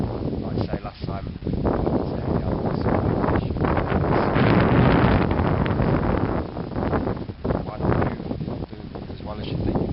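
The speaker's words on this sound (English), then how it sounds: "that wind's just ploughing into there" Strong wind roaring across an open carp fishing lake at Hintlesham Fisheries in Suffolk, buffeting the microphone with a loud, continuous gusty rumble through the whole stretch, swelling toward the middle with brief dips near the end.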